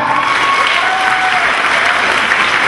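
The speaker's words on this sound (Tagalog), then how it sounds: "Isang palakpak pa uli sa amin ka." An audience applauds at a grand batch reunion, a dense, sustained wash of clapping from a crowd that stays loud and even for the whole stretch.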